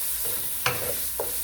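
Onions sauté on low heat in a pan for a coconut fish curry, producing a continuous close sizzle with a couple of brief stirring scrapes.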